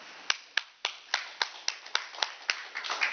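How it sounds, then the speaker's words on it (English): A small group claps at a council-style meeting, a quiet round of applause with steady separate claps that thicken toward the end. "I think he deserves a round of applause for that"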